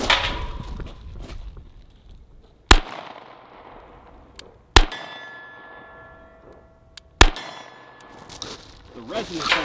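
Canik TP9SA Mod 2 pistol fired outdoors: three sharp, loud shots spaced a couple of seconds apart, each trailing off in a long metallic ringing decay over a quiet background.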